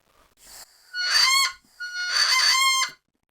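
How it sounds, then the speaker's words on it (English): A Melvin bagpipe chanter reed is blown in two short bursts, each starting with a breathy, buzzy hiss that settles into a bright, nasal sustained tone. "it blows nice, some staticky sound into a clear tone"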